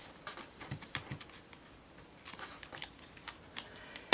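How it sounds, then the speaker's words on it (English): A white liner tape remover burnishes and peels liner tape off a crafted holiday gift card holder, giving scattered dry scratchy taps and small crackles in irregular bursts. A louder ripping pull comes at the very end. "using the white liner tape remover, we're going to burnish it down and grab the edge and pull off the tape."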